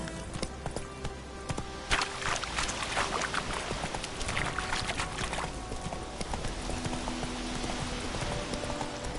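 Horse hooves clip-clop at a steady trotting rhythm in the video game The Witcher 3, a continuous run of sharp close hoofbeats over a rushing, rumbling background, with no talk over them.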